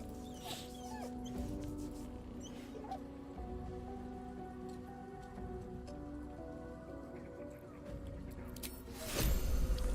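A dog companion in the fantasy role-playing game Baldur's Gate 3 whimpers softly in brief cries over a steady rain-like ambient wash, with a louder rustling burst near the end.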